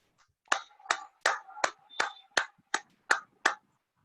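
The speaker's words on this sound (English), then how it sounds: "a huge round of applause" Applause at a virtual Toastmasters club meeting, sounding as about nine sharp, separate claps in an uneven rhythm, close and fairly quiet with short gaps between them.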